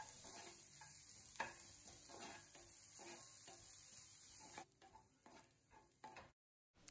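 Two finely chopped onions sautéed in oil until golden, a continuous sizzle with repeated scraping stirs of a spoon in the pan over a low hum, turning patchy before cutting out near the end.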